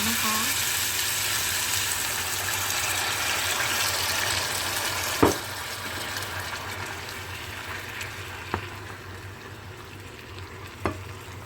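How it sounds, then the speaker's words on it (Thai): Pork sizzles steadily in a pan while being stir-fried for a Thai pork curry with mushrooms and nuts. Occasional scraping and stirring knocks sound over the continuous frying hiss. "ผัดให้หมูสุกสักแป๊บนึงก่อนนะคะ"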